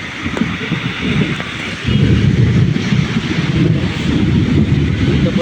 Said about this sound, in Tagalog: So malakas pa rin ang ulan